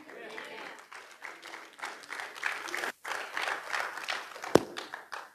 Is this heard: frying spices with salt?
no